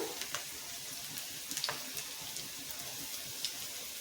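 Chopped onion hits hot oil and sizzles, a soft, steady hiss with small crackles and pops throughout, fairly quiet and with no voices.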